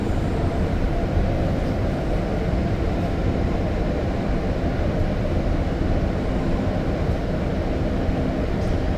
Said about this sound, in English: All on the same train,